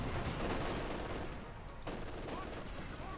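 Sustained MG42 machine gun fire with grenade blasts in Company of Heroes 2, a dense, loud continuous battle rattle lasting throughout, with a brief dip midway before the clatter resumes.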